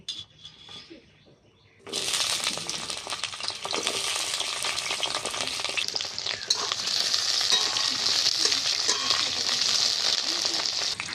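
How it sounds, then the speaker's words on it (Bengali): Pointed gourd pieces drop into hot oil in a wok and set off a loud, sudden sizzle that carries on steadily and grows slightly stronger, with faint stirring clinks. "এবার আমি পটলটাকে ভেজে নিচ্ছি"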